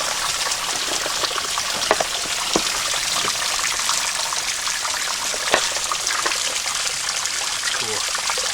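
Small trickling waterfalls on a woodland trail after rain in Worlds End State Park, Pennsylvania, giving a steady, even wash of splashing water, close and continuous throughout.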